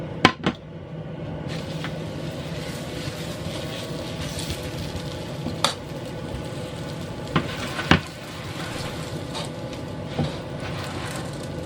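Hand-made roti parhata flatbread fries in hot oil with a steady, moderate sizzle, broken by a few sharp clicks and taps of utensils close by, no talk.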